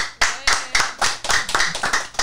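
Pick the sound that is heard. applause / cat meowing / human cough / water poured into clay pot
applause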